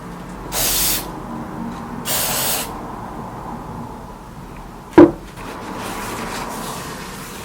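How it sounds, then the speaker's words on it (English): Two short hissing bursts of Loctite activator sprayed onto cleaned metal surfaces during a yacht wind generator and outboard repair, each about half a second long, followed by a single sharp knock; otherwise quiet. "Now I need to put the Loctite activator here in both surface, on this one and on the other one."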